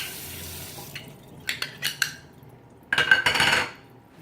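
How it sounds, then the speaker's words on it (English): Small ceramic oil-dipping dishes clink together a few times, followed by a brief rush of tap water as they are rinsed at a kitchen sink. "Let's pull these out of the cabinet, so I want to give them a good rinse."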